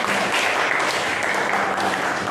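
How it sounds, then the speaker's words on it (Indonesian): Applause from a class of students at the close of a school lesson, a steady dense wash of clapping throughout with faint voices mixed in. "Tepuk tangan dulu untuk kita semua"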